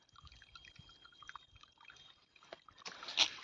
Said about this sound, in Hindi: तो फिर पानी भी ऐसे निकाल देते हैं।